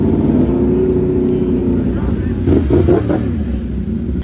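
A motorcycle engine idles with a steady rumble, then revs in a few quick throttle blips partway through, loud and close, with people talking over it.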